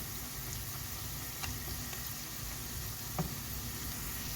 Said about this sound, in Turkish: Evet arkadaşlar tereyağımız da eridi. Sonra pirinçlerimizi güzelce kavurduk.